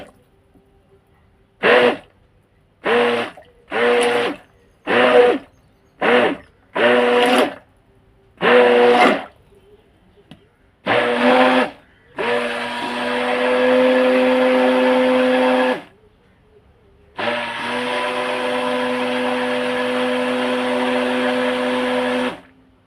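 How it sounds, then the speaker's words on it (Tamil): Butters and oils for orange peel soap are mixed with an electric blender, first in a series of short buzzing pulses, then in two longer continuous runs, loud and close. "இப்படி நல்லா போட்டு பட்டர் ஆயில் எல்லாத்தையும் எந்த ஒரு லம்ஸுமே இல்லாமல் நான் மிக்ஸ் பண்ண போகிறேன்."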